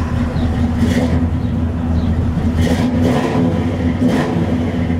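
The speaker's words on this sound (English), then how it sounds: "It's got hooker headers leading to dual exhaust with Flowmasters." A 1968 Pontiac GTO V8 with Hooker headers and dual Flowmaster exhaust idles with a deep, loud rumble close by, blipped into three short revs spaced evenly about every one and a half seconds.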